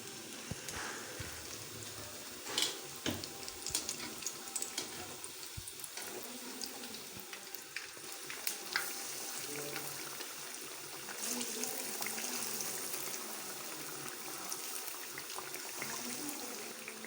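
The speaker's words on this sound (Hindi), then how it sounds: "अब हम इसके अंदर नान डाल देते हैं" Naan fries in hot oil in a wok, a long, steady crackling hiss like light rain, with scattered louder pops and faint background voices at times.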